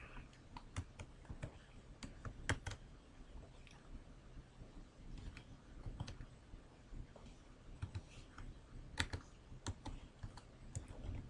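Quick, irregular clicking of keys on a computer keyboard as an if statement is typed into a spreadsheet, faint and close, with short bursts and pauses and no talking.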